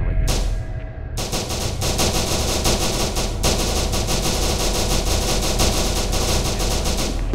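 Rapid, loud automatic gunfire in the video game SCP: Secret Laboratory rattles almost continuously in dense bursts after a brief opening shot, with no talking.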